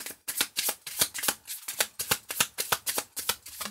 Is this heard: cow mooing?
no